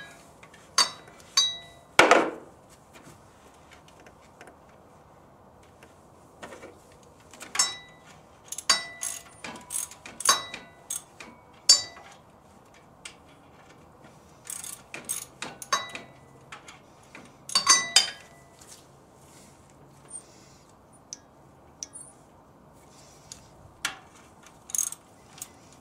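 A regular hand ratchet works on the alternator of a 1986 Corvette, giving scattered bursts of close metallic clicking with quiet pauses between strokes.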